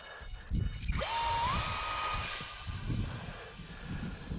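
Eflite UMX F-86 Sabre RC jet's electric ducted-fan motor spooling up to a high, steady whine at hand launch, close and loud over wind and background rustle.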